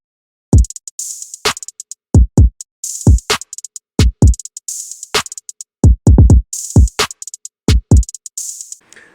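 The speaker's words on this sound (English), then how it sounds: "I had the kick, I had the hats, I had the clap, and I had the snare." Programmed hip-hop beat pattern with punchy kick drums, ticking hi-hats, a clap and a snare, looping steadily and loud with no one talking over it.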